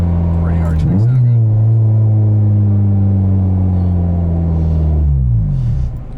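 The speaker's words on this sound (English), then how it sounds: "I think this is one of the better sounding exhausts for 8th gens in general" A 2009 Honda Civic Si with a K24 engine swap and a throaty aftermarket exhaust drones loudly at steady revs, rising at the start and falling away near the end.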